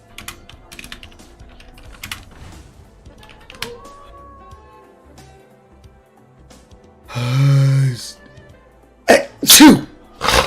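A sharp, loud sneeze bursts out near the microphone and is followed by a couple of quick gasping breaths, after a stretch of quiet computer keyboard typing at a home desk.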